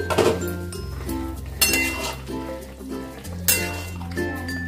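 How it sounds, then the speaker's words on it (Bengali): A metal lid clinks against a cooking pot of shukto vegetables as it is lifted, with a few sharp rattles over steady background music. "5 মিনিট পর আমি লিডটাকে তুলছি"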